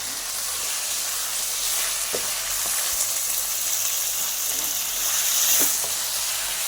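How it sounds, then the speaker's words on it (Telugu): Tomato pieces frying with softened onions in a pan for a mango and drumstick sambar give a steady, close sizzle and hiss, broken by a few soft stirring clicks, with no talking. "ఎర్రగడ్డ మగ్గిన తర్వాత టమాటా ముక్కలు వేసుకోవాలి"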